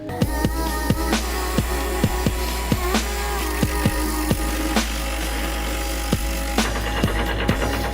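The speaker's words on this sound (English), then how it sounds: "I clamped a drill in a vise and started to grind off the excess metal from the pistons." A drill clamped in a vise grinds excess metal off engine pistons: a loud, continuous motor whine and abrasive rasp, punctuated by regular sharp contact scrapes roughly every half second, with no talk.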